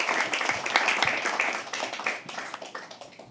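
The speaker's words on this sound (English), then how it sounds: "Keep clapping till he comes on stage." A crowd at a live poetry open mic claps and applauds while waiting for a performer to come on stage, loud and dense at first, then gradually thinning and fading, with faint voices mixed in.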